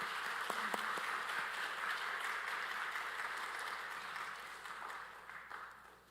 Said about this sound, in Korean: 그동안 목사님 고생하셨는데 우리 박수로 모시겠습니다.